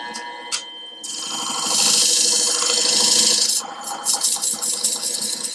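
A Katoku dual-head sharpening machine grinds a clamped blade on an 800-grit head. A steady motor hum runs underneath, then a bright, hissing grind rises for about two and a half seconds before easing into lighter scraping contact.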